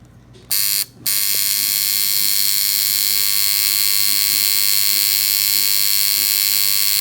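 A tattoo machine buzzes continuously and loudly while lining over a stencil on skin, starting with two short bursts before settling into an unbroken drone.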